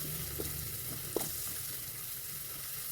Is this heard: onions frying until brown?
yes